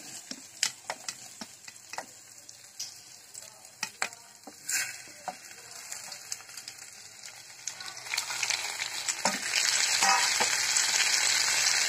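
Onions and tomatoes frying in a pan for paneer butter masala curry, a steady sizzle with scattered stirring clicks and scrapes that swells louder and denser toward the end, with no talking.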